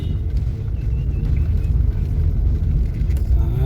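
A car creeps slowly downhill at roughly 20 to 30 km/h on the steep Palamalai Hills road, producing a steady low engine and road rumble heard from inside the vehicle, with no speech.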